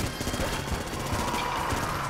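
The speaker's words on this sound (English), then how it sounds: "No, we're just going to go with the Vulcan Cannon." Vulcan Cannon firing in the game Enter the Gungeon, a rapid continuous rattle of shots at moderate loudness throughout the short burst, with no clear talk over it.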